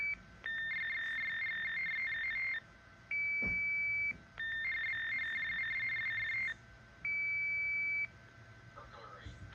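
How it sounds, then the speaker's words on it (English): A Radionics D2071 alarm communicator panel beeps in repeated high electronic bursts for a burglary alarm, alternating between a rapid pulsing tone and a steady tone, with short gaps in between. "And there's our burglary alarm."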